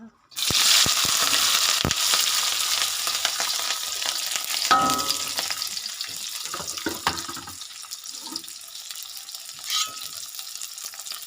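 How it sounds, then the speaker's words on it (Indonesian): Spices for stir-fried water spinach hitting hot oil, a loud immediate hiss and crackle that settles into a steady sizzle with scattered stirring scrapes, close and without talk. "Ini minyaknya udah panas, sekarang kita masukkan bumbunya."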